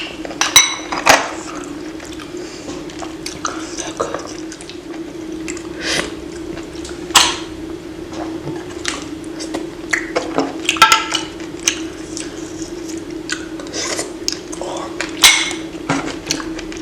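Utensils clinking against dishes with soft squishy chewing as a woman eats a large plate of salmon, scattered clicks and clatters repeating irregularly over a steady low hum, with faint background voices.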